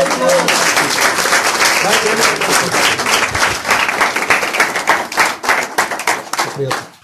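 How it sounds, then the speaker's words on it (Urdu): A church audience gives loud applause at an evangelist's gathering, a thick burst of many hands clapping with speech mixed in, fading away at the end. "آئیے زوردار تالیوں میں ان کو"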